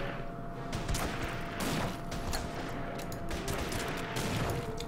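Sustained gunfire and fusillade bursts in the wartime strategy game Order of Battle: Panzerkrieg, a continuous loud barrage of overlapping shots and booms with no pauses.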